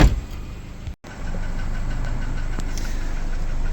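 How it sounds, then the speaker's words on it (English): Honda Civic EF sedan engine idling roughly and threatening to stall after a timing belt job, a steady low rumble with a brief dropout near the start before the idle resumes. "it keeps trying to die after about a minute of idling."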